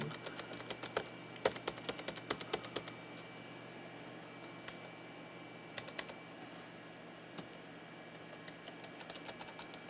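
Laptop keys on a Dell Latitude Pentium notebook clatter in irregular bursts of quick taps, some clusters fast and some sparse, close up over a steady low electronic hum.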